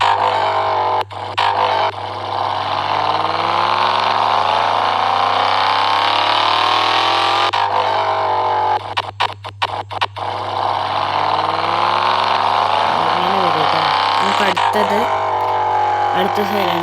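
A modified car's engine idles steadily with its stock silencer fitted, a continuous close-up rumble that holds throughout, with a few brief revving blips and dropouts along the way.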